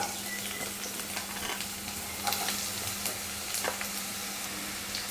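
Onion frying in hot oil for a potato and bitter gourd fry, a continuous quiet crackling sizzle with scattered pops and stirring sounds over a faint steady hum.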